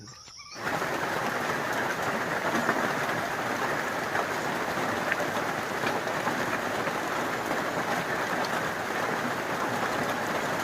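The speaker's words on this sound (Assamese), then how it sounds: "বৰষুণে আহিলে" Rain sets in after a brief silence and then falls steadily, an even, dense patter on surfaces nearby.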